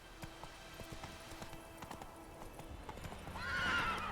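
In the video game The Witcher 3, a horse gallops with a steady clip-clop of hooves, then gives a loud whinny near the end.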